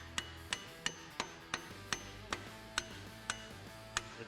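A hammer strikes a bolt being driven into a Jeep JK rear track bar bracket, about eleven sharp metallic taps at a steady rhythm, close and clear with no talking.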